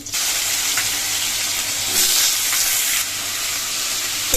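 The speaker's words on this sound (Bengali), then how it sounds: "জিরা আর কাঁচা লঙ্কা দিয়ে দিলাম তেলের ফোড়ন" Cumin seeds and green chillies sizzling in hot oil in a kadai, a loud continuous hiss with brief bursts of stronger crackle, alone without speech.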